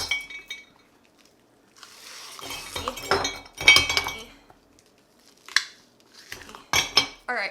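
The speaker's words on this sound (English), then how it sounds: "You're gonna need a mason jar and some ice cubes." Ice cubes drop and rattle against a glass mason jar in short, bright clinking bursts separated by quiet pauses. The sounds are close and there is no speech.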